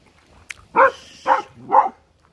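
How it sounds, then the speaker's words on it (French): A dog barks three times at a sign on a marsh walk, short close barks with brief pauses between them. "maintenant il se met à aboyer au panneau."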